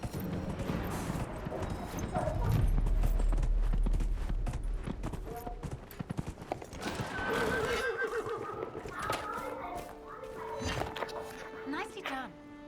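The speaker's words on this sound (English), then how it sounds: "Vai dizer que o cavalo ficou cansado." A horse in Dragon Age: Inquisition whinnies loudly, and its hooves clip-clop in a steady rhythm during a race, with game sounds and someone talking over it.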